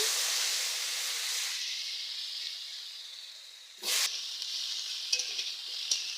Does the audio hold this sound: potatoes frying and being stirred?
yes